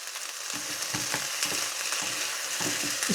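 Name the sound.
vegetables frying and being stirred in a pan for ratatouille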